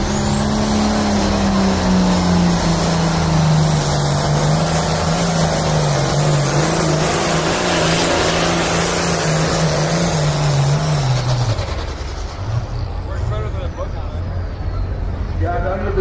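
Loud, continuous roar of a pulling tractor's engine with a 3-inch turbo spooling up and building boost at a tractor pull, holding steady before dropping off near the end, with speech mixed in.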